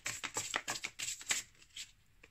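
Tarot cards are shuffled and handled in quick papery flicks and riffles, followed by a few softer taps as a single card is drawn and laid down. The sound is close and quiet, with no talking.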